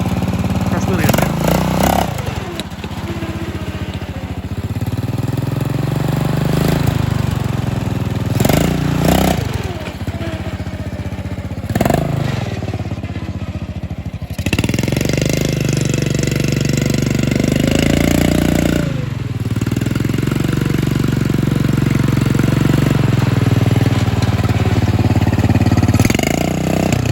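Riding lawn tractor engine revving hard during a wheelie, loud rough bursts that rise and fall repeatedly with brief drops to idle, up close over about half a minute, with people talking at times.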